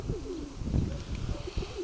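Pigeons give several soft, low coos in a rolling rhythm, fairly faint and close by against a quiet outdoor background.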